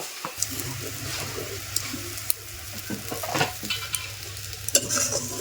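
Turmeric, chili and spice powders stir-fried in a hot pan for a Bangladeshi dried puti fish curry with stalks, potato and eggplant, giving a steady close sizzle broken by sharp spatula scrapes and clicks, with no talking.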